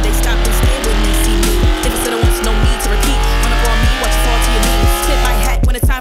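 Toyota Supra Mk5 engine fitted with open intake velocity stacks, sweeping loudly through rising revs with a steady harmonic drone and repeated sharp shift-like pulses across the whole stretch, close and dominant.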